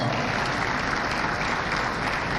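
A conference audience at a South East venture capital program event in Enugu claps loudly and continuously, a dense, close round of applause with no speech.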